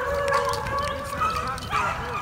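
Hunting dogs baying and yelping on a Georgia rabbit hunt, several overlapping howls and yips at moderate distance, with a voice talking briefly.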